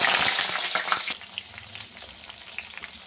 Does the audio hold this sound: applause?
no